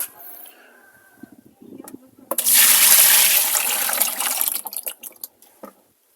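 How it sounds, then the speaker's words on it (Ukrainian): Water from one bucket is poured into another while mixing copper sulfate solution for spraying a garden, a loud steady splashing rush of about two seconds after some quieter handling noises, ending with a few drips and knocks. "Переливаємо це відро."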